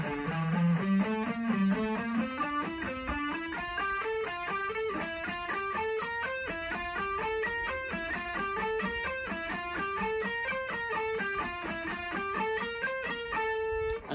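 An electric guitar with a distorted tone runs a song's whole scale from the top, a long unbroken chain of rapid picked notes climbing and falling, loud and continuous.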